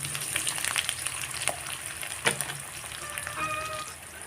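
Chopped medium onions hit hot oil in a pan for an Assamese chicken curry, giving a steady close sizzle and crackle throughout, with a few brief clinks and stirring sounds.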